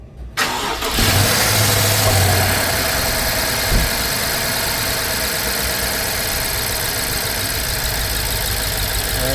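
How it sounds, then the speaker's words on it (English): A vehicle engine with a suspected failing catalytic converter cranks and catches, then settles into a steady, loud idle that runs on alone without talk. "now we're gonna go ahead and start the vehicle again"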